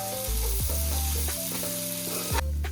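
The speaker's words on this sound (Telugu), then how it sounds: "అల్లం వెల్లుల్లి పేస్ట్ పచ్చివాసన పోయే వరకు వేపించుకోవాలి" Ginger garlic paste fries with prawns in a pan for mixed pulao, making a steady close sizzle broken by a few spatula scrapes, no talk.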